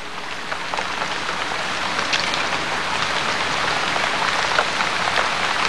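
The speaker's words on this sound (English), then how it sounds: "There can't be many places in the universe that experience the miracle of rain." Rain falling steadily, a dense, loud hiss of countless drops hitting surfaces with scattered sharper patters, continuous and unbroken with no voices.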